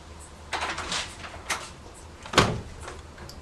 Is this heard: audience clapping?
no